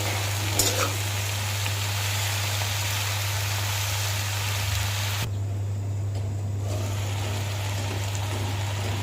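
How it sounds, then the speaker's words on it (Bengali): Greens cooking in a pan with small dried fish and potatoes, a steady soft sizzle and bubble under a constant low electrical hum, with a brief quieter dip partway through. "ছোট গুঁড়া শুটকি দিয়ে আলু দিয়ে রান্না করলাম"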